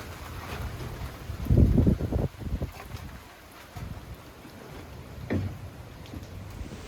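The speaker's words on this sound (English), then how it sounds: "wind is going up and down" Gusty typhoon wind at dusk, rising and falling around a residential compound as heavy rain falls, with a louder roaring burst early on and a later surge, steady rushing noise between gusts.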